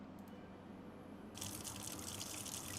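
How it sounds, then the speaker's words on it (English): Bidet nozzle spraying water, starting as a low steady hiss and then bursting into a loud, bright gushing spray that continues evenly to the end. "Now we're gonna spray our face, because I think you're supposed to clean your face with the bidet."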